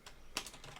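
Rapid clicking of computer keyboard keys, with a sharper burst of strokes partway through, close and fairly quiet.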